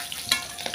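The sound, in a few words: puti fish frying in oil, being stirred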